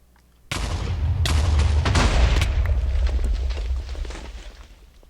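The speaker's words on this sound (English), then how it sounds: "we actually survived the explosion that can probably kill us at one tap" A loud explosion in Minecraft with the VanillaPlus mod bursts in abruptly after a short quiet lead-in, then rumbles on with heavy low boom and crackling debris. It slowly fades toward the end, with no talking over it.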